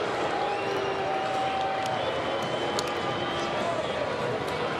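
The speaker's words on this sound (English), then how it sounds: "Listen to the crowd" Stadium crowd roars steadily after a Cincinnati Reds win in Cleveland, a dense wall of cheering and applause filling the whole stretch at a fairly distant, even level with no single voice standing out.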